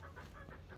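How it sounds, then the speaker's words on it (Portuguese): Four young Índio Gigante chickens clucking close by, a quick series of soft rhythmic clucks with a low background hum. "Aqui é os meus quatro franguinhos índio gigante"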